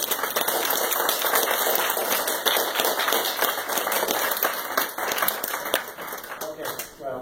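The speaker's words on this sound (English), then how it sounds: "another round of applause for us." Audience applause after a talk, a dense crackle of clapping hands sustained for several seconds before thinning toward the end.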